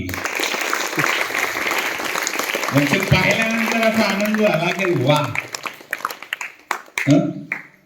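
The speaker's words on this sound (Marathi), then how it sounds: "टाळ्या वाजवा की" A crowd at a school prize event applauds in a dense, sustained wash of clapping, while a voice speaks loudly over it and the clapping fades into scattered claps.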